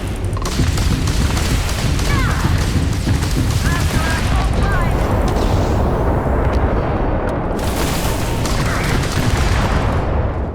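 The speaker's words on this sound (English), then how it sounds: "Turrets are in fact working." Ship turrets firing in the Starfield space game, a dense, continuous roar of rapid booms and blasts throughout, loud and unbroken, with faint electronic chirps mixed in.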